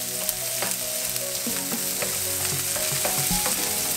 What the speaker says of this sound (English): The garlic, the onion, let us simmer together.